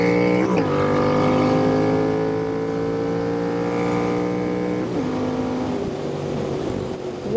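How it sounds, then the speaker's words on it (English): A Royal Enfield Interceptor motorcycle fitted with an S&S cam and Revelry Racing intake holds high revs against its rev limiter, a loud, close, sustained buzzing drone that dips briefly twice before surging again. "Rev limiter."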